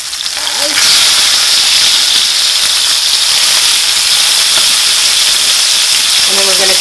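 Duck pieces fry in a hot pan with a loud, steady sizzle and hiss that surges up at about one second as they are flipped, and it stays dense and close after that. A faint clink or two sounds underneath.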